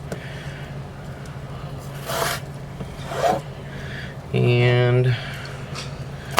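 A knife cutting potatoes for potato and ham soup gives a few short rasping, scraping strokes near the microphone, with a person speaking briefly over them.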